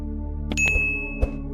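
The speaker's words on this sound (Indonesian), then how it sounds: "Nyalakan lonceng notifikasi sekarang" A notification bell sound effect gives one bright, clear ding that rings on and fades over a steady low hum.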